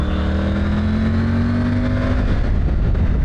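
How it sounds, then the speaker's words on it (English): A Triumph Tiger 900 Rally Pro motorcycle fitted with an Arrow exhaust drones close and loud while riding, its steady engine note rising in pitch and then settling. "This bike is amazing. Tiger 900 Rally Pro. And it's got an Arrow exhaust on it. What an engine."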